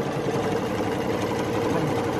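A sewing machine stitching tape onto a fabric face mask, running as a continuous close mechanical whir with a steady motor hum throughout.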